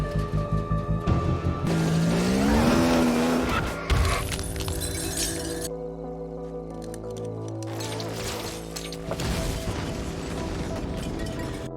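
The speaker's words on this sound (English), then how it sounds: "Chris isn't about to give up as she revs up the car one more time" A car engine in a movie scene revs and whines with rising, falling pitch, then gives way to squeals, a crash-like burst and layered dramatic sound, loud and mixed with score, without speech.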